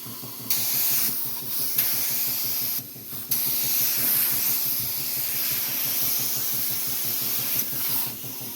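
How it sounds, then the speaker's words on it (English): A homemade paint spray gun built from junk sprays fluid in a loud steady hiss, cutting off briefly a few times, with a rapid pulsing rattle and a leaking quick-connect fitting underneath. "Seems to spray pretty good to me."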